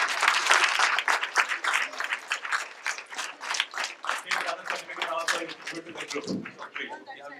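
Applause for a student team called forward at the VTSEVA Science Fair 2017, a round of uneven clapping with distinct individual claps, fairly close, with a voice briefly heard near the end.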